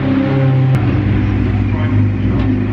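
Loud, stripped-out, heavily tuned Ferrari 488 race cars roar around the Silverstone circuit, a dense sustained engine drone filling the whole stretch with no break.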